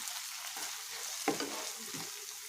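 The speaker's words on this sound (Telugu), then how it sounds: "బీరకాయ పొట్టు, టమాటా ముక్కలు బాగా ఫ్రై అయిపోయాయండి" Ridge gourd peel and tomato pieces fry in a pan with a steady soft sizzle, broken by a few scraping stirs of a spatula, one sharper near the middle.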